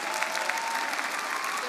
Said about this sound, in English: Clap for the affirmative people.